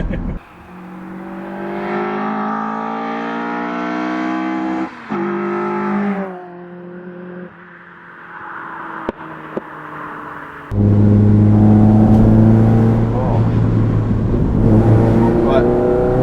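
A Mazda MX-5 engine with individual throttle bodies drones and revs with strong harmonic tones, dropping and rising in pitch, then roaring louder and harsher as it accelerates hard on an open road.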